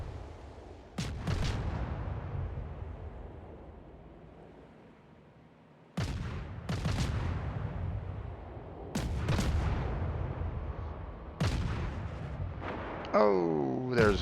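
Heavy naval gunfire and shell impacts in World of Warships, a battleship's salvos landing on a cruiser: several deep booming blasts with long rumbling decays, spaced a few seconds apart, with a voice talking between them.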